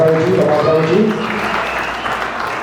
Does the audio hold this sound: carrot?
no